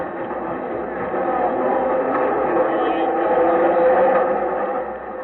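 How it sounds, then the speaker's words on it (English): A subway train pulls out of the station as an old-time radio drama sound effect, a steady low rumble that swells and then eases off, dense and close with no voices. "We better catch him before that train pulls out."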